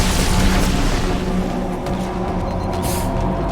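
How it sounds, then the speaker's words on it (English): A grenade blast in the video game Halo 2, a loud booming rumble that rolls on with dense low noise and fades slightly over a few seconds, with no talking. "I hit you with a grenade by mistake."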